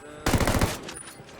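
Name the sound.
gunfire in Ghost Recon Wildlands video game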